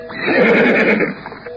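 A horse lets out a loud, close, drawn-out neigh that rises and shakes before fading, used as an audio drama sound effect.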